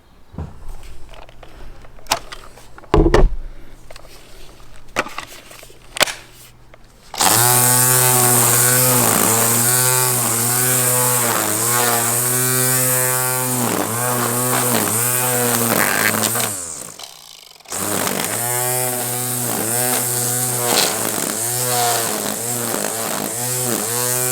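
A Ryobi OLT1832 cordless strimmer on a 5 Ah battery winds up to a loud, steady high whine that holds for about ten seconds, dips briefly, then revs again; quieter handling noises and small knocks come before it starts.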